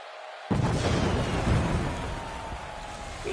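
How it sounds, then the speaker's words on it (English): Pyrotechnic explosions at a pro wrestling entrance at an ECCW pay-per-view event, a sudden loud boom followed by a sustained crackling, roaring wash of bursts that slowly tails off. "With those explosions for Washington."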